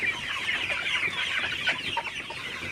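Sonali super hybrid chickens crowd around fresh morning water, a dense, continuous chorus of close, busy clucking and chatter with no pauses.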